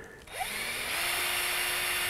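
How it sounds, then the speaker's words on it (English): Power drill boring a hole into a plastic kayak hull, a steady close whine that ramps up after a brief pause and holds continuously, with no talking. "drill another hole in there"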